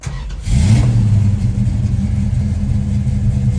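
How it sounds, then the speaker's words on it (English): A warm 1970 Dodge Coronet Super Bee engine cranks and catches after a brief start, then settles into a steady, loud idle with a slight rev near the microphone. "And it starts right up when it's warm, like this."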